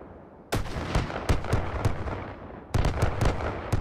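Grenades exploding in the VR game Hot Dogs, Horseshoes & Hand Grenades, a rapid string of sharp loud blasts and cracks in two bursts, close and booming, with no talk.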